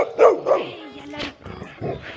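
Close barks and yips from Nala, the property owner's female dog, come in a few short bursts, with a person talking softly in between.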